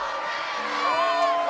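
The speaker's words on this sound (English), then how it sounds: "It's just people cheering." A crowd cheering and whooping from a replayed clip: a steady mass of shouting voices with rising, wavering yells, fairly loud and continuous for the whole moment.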